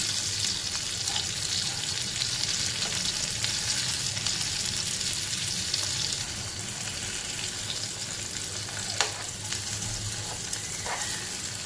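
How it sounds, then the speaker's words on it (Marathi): Stuffed masala okra (bharli bhendi) frying in a pan gives a continuous close crackling sizzle, with faint scrapes of a spoon turning the pieces near the end. "साईड आपली भेंडी व्यवस्थित भाजून झालेली आहे"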